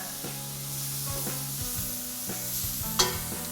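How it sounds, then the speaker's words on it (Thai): Hong Kong-style rice noodles stir-fried in a wok with Chinese liquor until it cooks off: continuous close sizzling with scraping stirring strokes and a brief louder hiss near the end, over faint tonal background. "ตามด้วยเหล้าจีน ผัดจนเหล้างวดฮะ"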